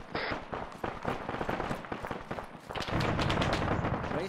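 Sustained machine gun bursts in Arma 3 during a counterinsurgency battle among buildings, dense and rapid, layered with other gunfire and loud throughout, with a heavier stretch toward the end.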